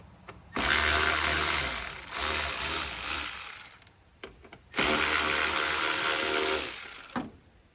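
A Milwaukee electric ratchet removes the bolts holding the blower motor on a 1992 Chevy S10, whirring loudly in two long bursts with a short gap between them and no talk.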